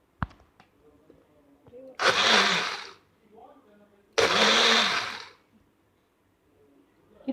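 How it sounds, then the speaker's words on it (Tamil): A mixer grinder whirs through popcorn chicken marinade ingredients in two loud, close bursts of about a second each, separated by quieter moments with clicks and handling noise. "இப்போ இதை நல்லா க்ளோஸ் பண்ணி இதை கிரைண்ட் பண்ணிக்கோங்க."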